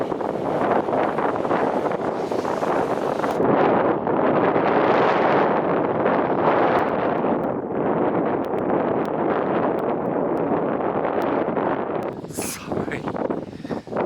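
Stormy wind batters the microphone at Wakkanai on Japan's northernmost tip, a loud roaring rush with gusty swells that runs nearly the whole time before easing into rustling at the end.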